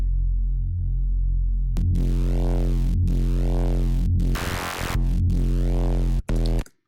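A distorted sine wave Reese bass synth drones deep and heavy, pulsing in slow swelling waves with a gritty buzzing edge, broken by a few abrupt cuts before it stops, with no voices.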